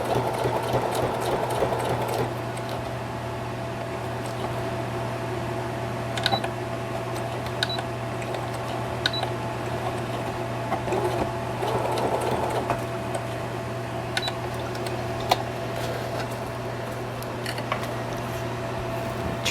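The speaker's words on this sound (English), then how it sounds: "I'm going to back stitch all the way back." A sewing machine back stitches across a journal card, running in short bursts of quiet mechanical whirring and clicking, with small ticks and pauses between runs, close and fairly soft.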